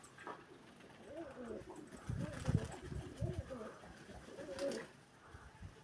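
Pigeons coo in soft, repeated throaty phrases over a pigeon loft against a noisy outdoor background, with faint voices mixed in.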